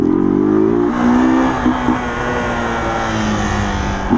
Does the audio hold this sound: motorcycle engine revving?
yes